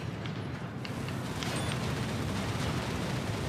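Environmental targets blowing up in the mech combat game Armored Core VI: Fires of Rubicon, a steady roaring rumble with scattered crackling booms and a faint high whine, continuous and dense throughout.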